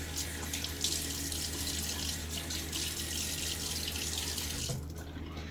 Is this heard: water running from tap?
yes